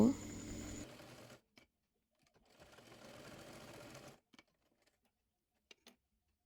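A sewing machine stitching a round maxi dress runs loudly at close range, stops, then whirs again in a longer burst before falling quiet with a few small clicks.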